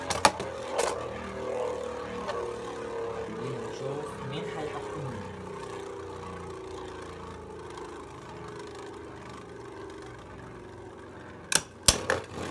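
Beyblade spinning tops battling in a stadium, a steady whirring grind as they spin and rub together, with a couple of sharp clacks near the end and someone talking over it.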